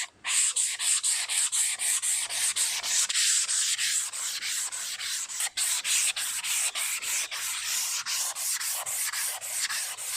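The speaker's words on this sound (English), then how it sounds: "that was hours of sanding" Steady back-and-forth sandpaper strokes rasp rhythmically, close and loud, with one brief pause midway before the scrubbing resumes, sanding trim pieces from a Toyota TA22 Celica.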